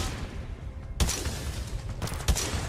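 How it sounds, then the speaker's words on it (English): Gunfire bursts from a grenade launcher in Titanfall 2, two sharp broadband blasts about a second apart over a steady rumbling in-game background, with no talking. "Am I like launching little grenades?"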